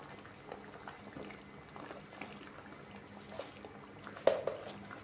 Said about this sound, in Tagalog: Kulo na